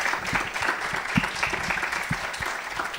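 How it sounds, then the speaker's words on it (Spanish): An audience applauds a guest speaker after a talk at a lecture event, steady dense clapping filling the room for the full stretch with no voices over it. "por favor pido un nuevo aplauso para nuestro invitado"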